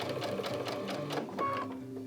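A sewing machine runs in a quick steady rhythm, stitching the center seam of a quilt-as-you-go block with sashing, then slows briefly near the end.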